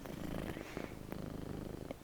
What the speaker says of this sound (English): I don't know if you guys can hear him purring.